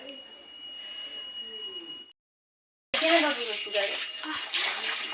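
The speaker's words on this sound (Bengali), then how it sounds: "মাংসটা ধুয়ে যাচ্ছে" Meat is washed under running water, a continuous splashing rush that stops briefly and then returns louder, with a voice talking over it.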